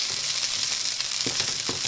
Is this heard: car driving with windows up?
no